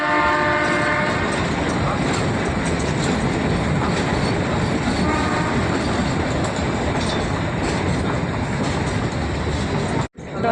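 The Shimla toy train heard from on board as it runs, a loud continuous rumble of wagons and rails with horn tones early on, the noise cut off briefly near the end.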